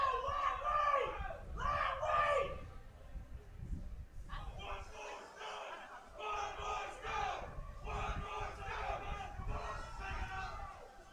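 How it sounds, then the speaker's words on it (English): A crowd at a strongman competition chants together in loud, rhythmic bursts urging an athlete on during a stone event, rising in repeated waves with short pauses between, close and energetic. "He's got the crowd hyped up for him here, chanting 1 more stone."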